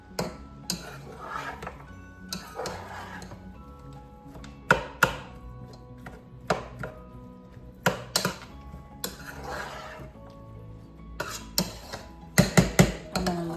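Cauliflower rice with Italian seasoning is tossed in a pan, giving a series of scraping, clattering utensil strikes against the cookware at irregular intervals, with a cluster of sharper clinks near the end.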